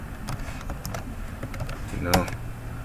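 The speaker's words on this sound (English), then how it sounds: "I meant to type it in here." Someone types on a computer keyboard close by, tapping out short, uneven bursts of clicks with brief gaps between them and one sharper clack near the end.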